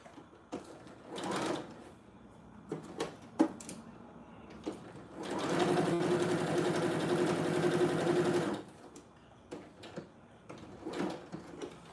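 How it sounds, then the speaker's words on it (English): A sewing machine stitching fabric for dog clothes: a steady, close mechanical whir running for a few seconds, framed by scattered handling clicks and taps before and after. "Watch me sew my doggy clothes, please."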